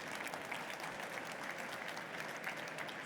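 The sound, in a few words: audience applause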